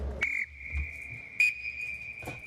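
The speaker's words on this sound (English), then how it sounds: "I'm going to blow the Acme while Brett blows the other" Two referee whistles, one of them an Acme, blown in turn: a short shrill blast, then a longer steady tone with a slightly different pitch, both close and clear in a quiet room.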